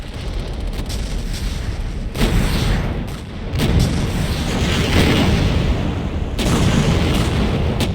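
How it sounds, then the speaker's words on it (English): Mortar shots and booming blasts in the multiplayer war game Empires, on the map emp_dmz, sounding as a dense, continuous rumble of distant artillery-like explosions with several heavier bursts rising through the din. "Having trouble shooting mortar shots."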